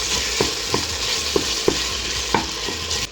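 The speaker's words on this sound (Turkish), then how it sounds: "Bir müddet de salçamla beraber soteleyeceğim." Tomato paste sizzles and fries in a pan under a constant crackle, while a utensil scrapes and stirs it with several distinct knocks spaced roughly every half second.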